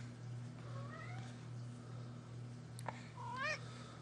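A cat meows faintly a few times over a low steady hum, with one brief click in between; the last meow is a bit louder.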